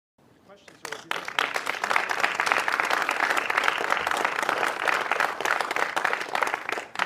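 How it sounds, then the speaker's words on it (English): A large crowd bursts into applause and keeps clapping loudly and steadily, a dense patter of hands with mixed voices cheering underneath, fading in at the start. "And the minion crowd went wild, clapping and cheering for their great pensions for life."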